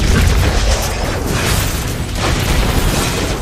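A turret explodes in the Mobile Legends game, a loud, dense boom and crash with rumbling debris that fills the whole few seconds at steady volume and carries no talk.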